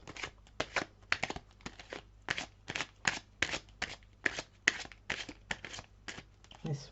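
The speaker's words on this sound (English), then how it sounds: "I'll pull you a message card just to wrap it up" Cards being shuffled for a tarot-style message card reading: a long run of crisp, rapid riffling bursts in a steady rhythm, close and fairly quiet, with no talking over them.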